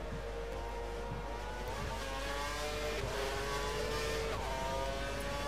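A Marussia Formula 1 car in F1 2012 at the Malaysia circuit, diving into the pits: steady engine drone with shifting harmonic tones as it slows and revs, heard throughout at moderate level without talk.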